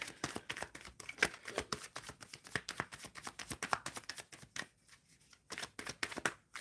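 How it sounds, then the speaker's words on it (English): Tarot cards are shuffled in rapid bursts of riffling and soft slapping, close and crisp, with a short pause before the shuffling resumes. "Shuffling for B."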